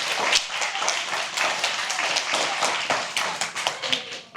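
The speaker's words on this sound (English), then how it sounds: "I want to first see if we can get a round of applause for Mr. Pratt and Mr. Jensen for organizing all of this" A school audience at an elementary spring instrumental music concert claps for the organizers, a close, dense patter of many hands that stays steady and loud for several seconds before starting to thin out.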